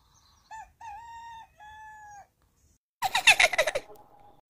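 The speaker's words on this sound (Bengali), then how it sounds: "কোথা থেকে যে মুরগিগুলো এসে ডাকাডাকি শুরু করে তা বুঝি না।" A rooster crows in several drawn-out, rising calls, then a short burst of excited clucking and squawking from chickens, fairly close and loud with no one talking.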